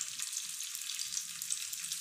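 Paneer frying in a little oil in a pan, producing a soft, steady, hissing sizzle with faint low crackles, quiet and without voices.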